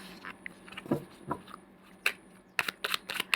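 Tarot cards are shuffled and drawn in a quiet room, with scattered soft flicks building to a run of sharp card snaps near the end, close and alone.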